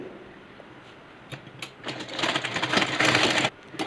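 A sewing machine stitches blouse lining and a waist belt, with a loud whirring run building near the end before stopping abruptly, preceded by a few soft clicks and handling taps up close.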